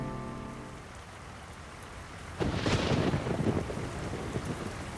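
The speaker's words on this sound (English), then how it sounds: "You join me in a very, very rainy San Francisco" Heavy rain pours down in a rainy San Francisco within a video game, a steady hiss that swells louder partway through with dense spattering and low rumbling, no voices present.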